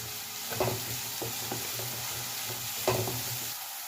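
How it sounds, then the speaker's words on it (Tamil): Ground ginger, green chilli and garlic paste crackles in hot oil, a soft steady sizzle broken by a few distinct stirring scrapes, two of them stronger, with no voices. "இப்போ 1-2 அரைச்சி வச்ச இஞ்சி, பச்சை மிளகா, பூண்டு இது போட்டுக்கலாம். இப்போ இதை நல்லா மிக்ஸ் பண்ணிக்கலாம்."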